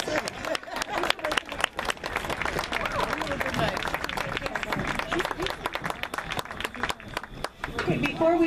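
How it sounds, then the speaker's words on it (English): A crowd at a 2014 girls' high school soccer senior night applauds the senior players: steady, dense clapping that runs throughout, with crowd chatter and voices mixed in. "Let's give them all a round of applause."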